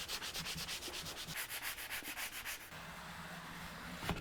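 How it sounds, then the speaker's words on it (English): Sandpaper rubs back and forth over the shiny finish of a thrifted watercooler stand in quick, close rhythmic strokes, then shifts to a smoother steady rub toward the end, with no talk. "So I'm using whatever grit I have on hand to get that shine off because we're gonna paint"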